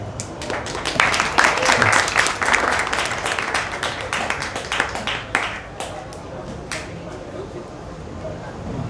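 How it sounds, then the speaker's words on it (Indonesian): Audience applause at a regional performing arts showcase, a dense burst of clapping that peaks early and then thins out into scattered claps, with people talking over it. "Mari kita beri tepuk tangan lagi pada para peserta dan dewan juri yang terhormat"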